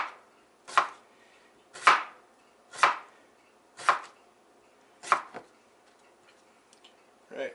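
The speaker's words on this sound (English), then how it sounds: "your fingers are going to be really close to the blade as you're chopping" A knife chops vegetables on a board in about six crisp, evenly spaced strokes roughly a second apart, close and clear with no voices.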